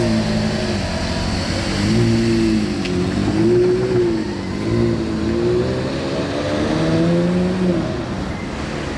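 A Porsche Carrera GT supercar pulls up at a restaurant in Monaco, its engine loud and close, with a rising and falling rev as it creeps and accelerates, steady throughout.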